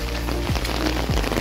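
Very heavy rain pours steadily in Pakistan under dark clouds, a dense continuous hiss of drops close by, with faint low thuds of thunder in the background.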